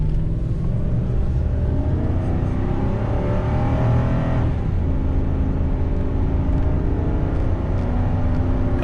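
A 1998 Ford F150 pickup with a two-valve Mustang V8 and about 400,000 miles accelerates hard, its engine roaring loud and close with a steady, deep rumble throughout.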